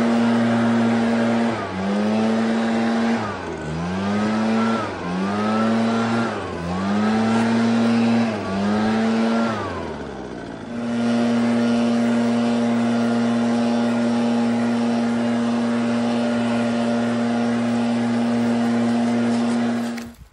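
A leaf blower clearing leaves from a quarter-acre lot roars close by, its engine rising and falling in several revving surges before settling into a steady, loud drone, with no voices.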